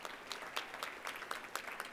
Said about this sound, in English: still deserves a round of applause